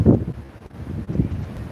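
Cold wind buffets a microphone on the deck of the cruise ship Anthem of the Seas sailing from Flam, Norway, a close, low, uneven rumble with two stronger gusts and no voices.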